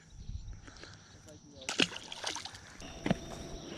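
Big bluegill let go back into pond water, with a few sloshes and one sharper splash close by amid outdoor background and brief talk.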